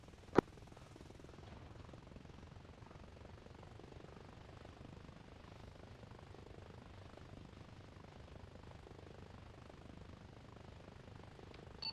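A helicopter spools up in Arma Reforger, a low, steady rotor and turbine drone held at a faint, distant level, with a single sharp click near the start.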